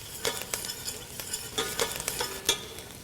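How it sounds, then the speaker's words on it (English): Onions sautéing in a pot for three bean minestrone after about ten minutes of cooking: a continuous close sizzle with repeated sharp spoon scrapes and stirs at an uneven rhythm. "So we've been cooking these onions for about 10 minutes, and they're beginning to get translucent."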